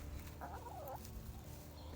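Foraging chickens give a single warbling fowl call early on, faint against a steady outdoor background hum, with no talking.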